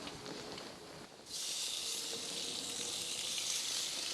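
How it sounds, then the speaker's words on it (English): Sirloin steak laid on a very hot grill, a soft background hiss that jumps into a loud, bright, continuous sizzle as the meat makes contact, close and steady, no speech. "Now the grill's really hot, so on with the steak."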